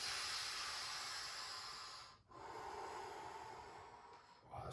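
A big breathy inhale during a workout, a long loud rush of air that pauses briefly and then continues, close to the mic with no talking.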